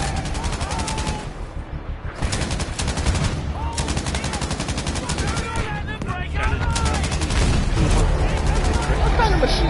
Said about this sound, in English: This is a German machine gun, right?